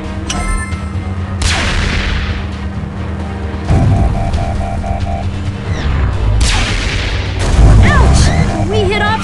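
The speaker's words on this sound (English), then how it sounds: "They're shooting at us!" Enemy Morbots shooting in the Transformers Rescue Bots video game, several booming blasts and crashes among game sounds and beeping tones, loud and close, with character voices talking in between.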